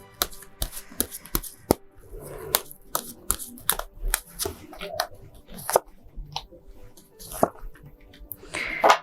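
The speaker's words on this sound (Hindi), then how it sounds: "आइए निकालते हैं 3 कार्ड्स" Tarot cards are shuffled and drawn from a deck for a yearly Aquarius reading, giving a run of sharp, close papery flicks and snaps with brief rustles in between, plus a few faint voice sounds.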